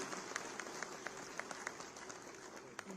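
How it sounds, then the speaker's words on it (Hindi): An audience claps at a ceremony handing out appointment letters to school principals, scattered hand claps that are soft and somewhat distant over a steady room hum. "आपकी तालियां इन सबके चेहरे पर मुस्कुराहट लाएंगी"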